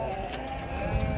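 Sheep bleating in a wavering, sustained cry, fairly close, with farm murmur underneath at a livestock market in Kenitra.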